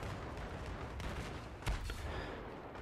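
Gunfire rattles through a Battlefield 3 Karkand Rush match, with dense distant shooting under a constant noisy bed and one sharper, louder shot partway through.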